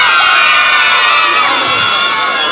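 A large crowd of children shouts loudly together at an outdoor event just before a balloon release, a dense, sustained roar of young voices that stays at full volume throughout.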